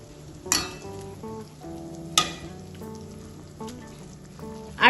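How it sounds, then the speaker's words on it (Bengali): Fried rohu fish pieces go one by one into a boiling, bubbling gravy for an orange-flavoured fish curry. A steady soft sizzle and bubbling carry throughout, and a few sharper splashes stand out as pieces drop in. "ঝোলটা ফুটতে শুরু করেছে আমি এবার এর মধ্যে একে একে ভেজে রাখা মাছগুলো দিয়ে দিলাম"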